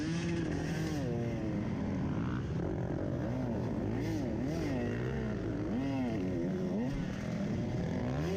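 Dirt bikes racing in a 2017 Portland Trail Riders hare scramble give a continuous close engine roar whose pitch rises and falls as riders rev through the trail.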